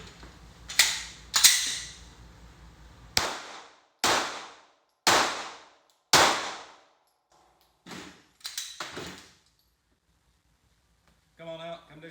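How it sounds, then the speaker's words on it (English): Handgun shots at an outdoor shooting range ring out as about eight sharp loud cracks with decaying echoes, spaced irregularly and separated by near silence, ending in a soft rattle. "we're going to take a few shots"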